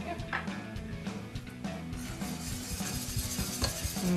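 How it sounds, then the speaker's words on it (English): Spinach with seasoning and grated Parmesan is stirred in a pan. A steady close scrape and soft sizzle run throughout, with a few light clinks of the utensil against the pan. "Stir this till it melts a bit."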